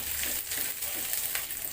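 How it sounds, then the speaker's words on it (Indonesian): Small rice anchovies fry in hot cooking oil, giving a steady, close crackling sizzle with faint popping throughout and no voices. "Panaskan minyak goreng secukupnya. Ini aku gunakan teri nasi."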